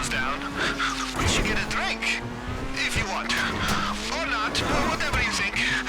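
A new Ferrari driven hard in GTA Online, its engine droning steadily with drifting pitch as the tyres squeal and skid repeatedly, loud and continuous with game noise layered over it.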